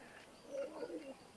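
Teddy 128 pigeons give a soft, low coo in one short murmuring phrase, faint against a quiet background.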